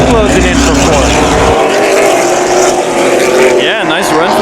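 Late model race cars roar around Havasu 95 Speedway during a 100-lap feature, engines whining and swelling as they pass, with an announcer's commentary running over the loud track noise.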